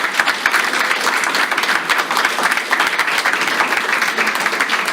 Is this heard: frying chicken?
no